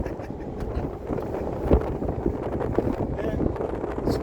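Wind buffets the microphone aboard a moving canal boat heading toward Market Harborough, a steady rough rush with engine rumble underneath, and people talk over it.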